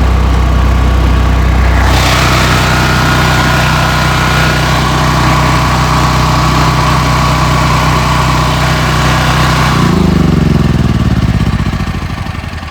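An 8.5 kW off-grid generator runs loud and steady nearby, its engine drone holding constant before a shift in pitch near the end as the load changes.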